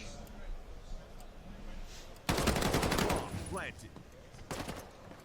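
SMG gunfire in a Battalion 1944 competitive match comes as a sudden rattling burst, then shorter bursts, under an excited caster's commentary.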